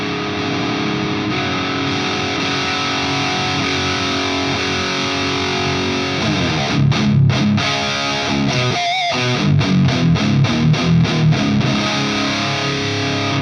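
An electric guitar runs through a Suhr Riot Mini overdrive pedal into a Marshall 800 amp, starting with sustained gritty chords and then moving into choppy palm-muted riffing with short pauses. It is loud throughout and no one speaks.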